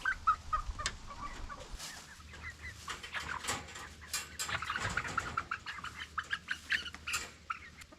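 Seven-week-old young hens cluck in soft, scattered bursts from close by, with no voices over them and steady low farmyard noise underneath.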